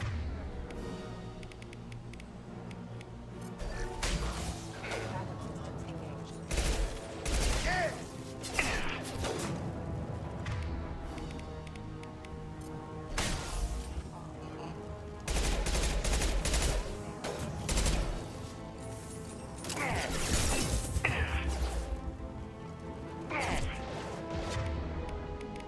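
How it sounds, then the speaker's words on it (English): Mass Effect 2 combat on insanity difficulty, with bursts of rapid gunfire, heavy impacts and crashing hits, loud and dense over a droning musical background, with voices speaking between volleys. "Firing a high-impact shot."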